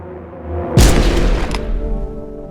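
A single loud, close gunshot boom from the video game No, I'm Not a Human, with a heavy low thud and a rumbling tail that fades over about two seconds, with no talking.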